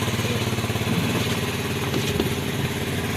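A motorcycle engine idles steadily in a village home courtyard, with a close, loud, even rumble and light mechanical clatter throughout and no voices.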